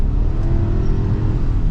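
The boxer engine of a 2024 Subaru Ascent Touring drones steadily under acceleration, a loud, low continuous rumble heard from inside the cabin.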